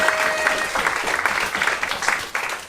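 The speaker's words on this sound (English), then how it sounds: "Welcome to the stage, Daisy. Round of applause" An audience at a stage talk breaks into a dense burst of applause, many hands clapping steadily and fairly loudly for a few seconds.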